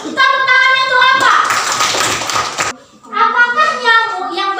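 Children in a classroom clap their hands together in a short burst between stretches of young voices speaking or chanting, the clapping loud and close in the middle of the clip.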